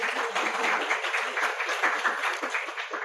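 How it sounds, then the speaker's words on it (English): Applause from a workshop audience on character development in fiction writing, a steady, dense patter of many hands clapping together at moderate distance, with no one talking over it. "Round of applause for yourselves"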